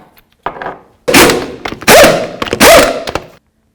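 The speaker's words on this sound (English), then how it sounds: "get our wheel back up on here, start all of our lug nuts" A wheel is mounted on a 2007-2017 Ford Expedition and its lug nuts are started, heard as a soft knock followed by several loud, close metallic thunks and clanks in quick succession.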